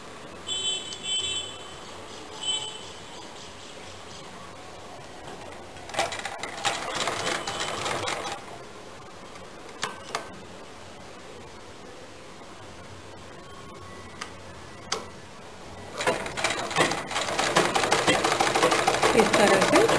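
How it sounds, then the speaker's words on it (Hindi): Sewing machine stitching darts on kurti fabric in home tailoring, with bursts of rapid mechanical whirring between quieter gaps, the longest and loudest run near the end, close by. "आगे और पीछे के भागों को के डार्ट को सिल लेंगे"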